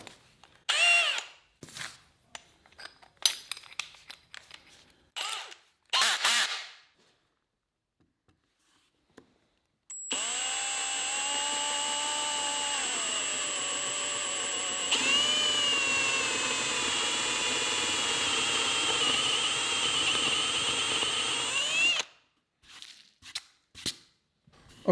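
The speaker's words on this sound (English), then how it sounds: "Let's go ahead and drill a hole with the 1/2 inch one first." Power drill boring a hole in wood with a half-inch bit: after some handling clatter and a pause, the motor whines steadily for about twelve seconds, loud and close, pitch shifting as the bit cuts, then stops before more handling noise.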